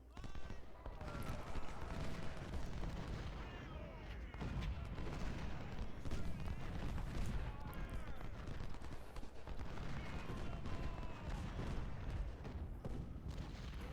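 Repeated cannon blasts and gunfire rumble through a battle soundscape in the video game Ultimate General: Civil War, at the Battle of Shiloh, with talking over the top at a moderate level.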